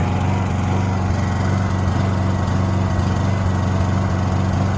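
A Honda 2200 generator engine idles at low speed after long storage, a steady close mechanical drone with a slight surge in its rhythm, no voices over it.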